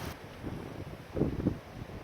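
Gusty gale-force wind buffets an outdoor cooking spot where plastic sheeting covers a shelter, a steady low rush broken by two stronger gusts close together partway through, with no voices.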